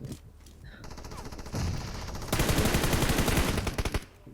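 Rapid automatic gunfire in PUBG Mobile, close and loud, building from scattered shots into a dense sustained burst of rattling fire that lasts a couple of seconds.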